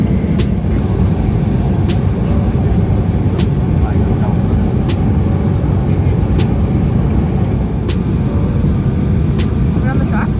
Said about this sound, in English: We're landing right now.